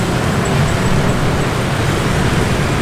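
Busy Saigon street traffic, dense with motorbikes alongside cars, forms a loud, steady roadway roar with constant engine rumble and no pauses, close by and unbroken throughout.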